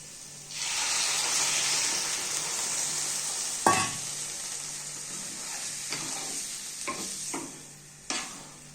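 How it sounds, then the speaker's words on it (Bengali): Water poured into a hot pan of capsicum and poppy seed mixture bursts into a loud, steady sizzle and hiss that holds for several seconds, followed by a few sharp clinks and scrapes of a utensil as it fades. "এভাবে আমরা মিনিট দু তিন মিনিট একটুখানি আমরা ভালোভাবে নাড়িয়ে নেব এবারে আমরা জলটা অ্যাড করছি"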